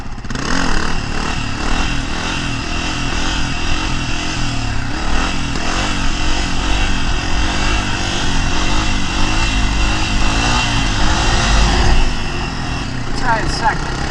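A 2023 Honda CRF250F dirt bike engine revs hard in first gear during a wheelie, a loud, steady buzzing drone that rises and holds with slight wavering in pitch.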